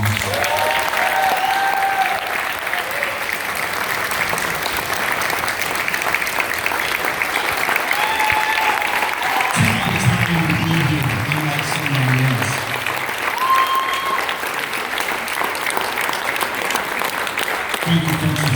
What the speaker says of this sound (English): give these candidates a big round of applause